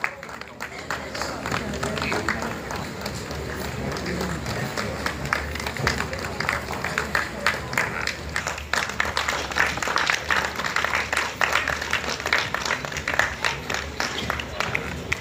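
An audience applauds an award recipient at an International Sign Language Day ceremony. The clapping builds gradually and turns more rhythmic and pulsing toward the end, with crowd noise and voices underneath.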